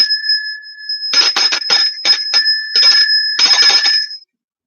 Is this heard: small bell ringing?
yes